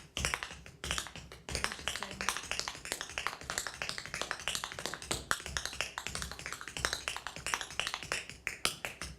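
Rapid, crisp taps of tap shoes on a hard floor patter in dense flurries of hoofing-style tap dance footwork, steady and close, with no voices.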